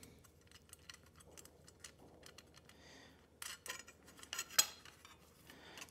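A 1/4 inch bolt fitted through a drilled hole to line up a hand-forged ladle bowl, giving scattered small metallic clinks and taps with brief quiet gaps and a sharper knock near the end, close and fairly faint.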